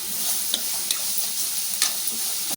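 Turmeric is stirred into carrot rice frying in a pan, a steady close sizzle broken by a few light scrapes and taps of the spoon, with no one talking.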